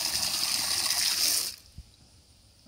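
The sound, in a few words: water flowing into a distribution box pipe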